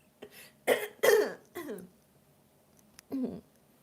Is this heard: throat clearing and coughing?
yes